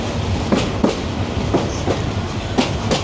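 A passenger train on the Dhaka to Kishoreganj line rolls along its tracks in the open countryside, giving a constant close rumble broken by regular clickety-clack wheel beats.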